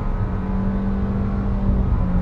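A 2022 Nissan Kicks SUV with a non-turbo engine accelerates in sport mode, heard from inside the cabin as a steady droning hum with a sustained low tone. No talking.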